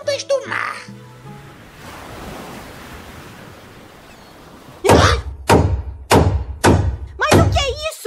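Five loud hammer blows strike at a steady pace while hanging a picture, following a stretch of soft rushing noise like surf.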